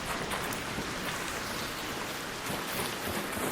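Constant heavy rainfall in the video game ARC Raiders, a thick, even wash of droplets hissing without pause from start to finish.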